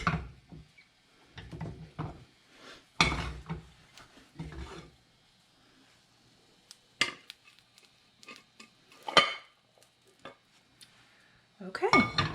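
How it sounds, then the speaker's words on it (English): An omelet is slid from a frying pan onto a plate, with scattered clinks and scrapes of utensils against cookware coming in short bursts separated by quiet gaps. "So now I'm gonna attempt to put it on my plate"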